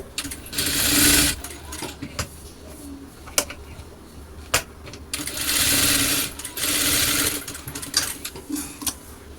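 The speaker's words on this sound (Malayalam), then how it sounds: "ഒരു സ്റ്റിച്ചും കൂടെ കൊടുക്കുന്നുണ്ട്" A sewing machine stitches fabric scraps in two sustained bursts, near and loud, separated by clicks and quiet handling of the cloth.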